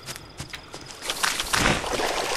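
Water in the video game Miasmata: steady splashing and sloshing that swells louder toward the end, with no talking.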